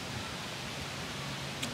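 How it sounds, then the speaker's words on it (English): Wind blowing steadily across an open park, a constant broadband rush that stays even and moderately loud throughout, with no voices. "wind's blowing"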